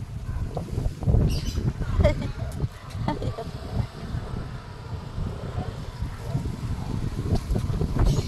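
Gusty wind ahead of a coming rainstorm rumbles and buffets the microphone in uneven surges, with faint outdoor sounds mixed into the low roar.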